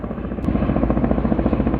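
A firefighting helicopter passes over a burning forest near Köyceğiz, Muğla, after dropping water, giving a loud, steady rotor thrum with rhythmic low pulsing and no voices.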